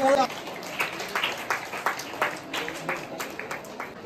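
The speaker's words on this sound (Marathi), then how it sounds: "जोरदार आपण टाळ्या वाजवा." Crowd clapping at a hill run marathon event, rhythmic and fairly loud, with a voice speaking over the claps at the start.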